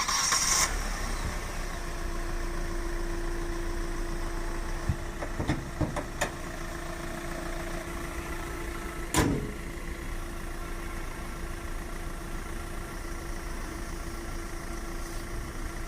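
Diesel Hyundai Creta idling steadily after a complete service and clutch replacement, a continuous low engine drone with a faint tonal hum, broken by a few soft clicks and one brief louder knock partway through.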